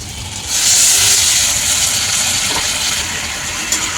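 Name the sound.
water poured into hot spiced potato masala, sizzling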